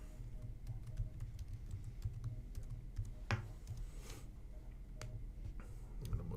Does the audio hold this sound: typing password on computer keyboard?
yes